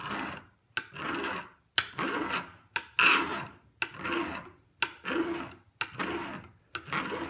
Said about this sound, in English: So I'm just drawing in one direction across the file